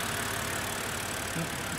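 A 2011 BMW Z4 engine idling steadily up close, a dense even hum with faint rapid injector ticking and no irregular knocks.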